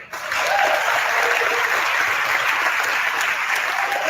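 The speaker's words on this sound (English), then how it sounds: "Round of applause for Amy" Audience applause for Amy breaks out abruptly and holds as a loud, dense, continuous clapping roar, steady from start to finish.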